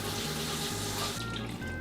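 Water is poured into a bowl of cake mix in a short, close splashing trickle with a bubbling gurgle, tapering off near the end.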